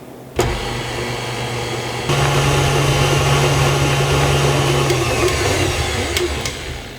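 An electric mixer whips three eggs on a high setting, a steady loud motor whine that starts abruptly, steps up partway, then runs on continuously without speech.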